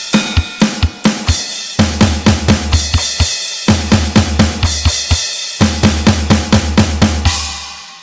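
A real drum kit plays the final section of a song at standard tempo, loud and close, with steady kick and snare hits and cymbals in three repeated phrases separated by brief pauses.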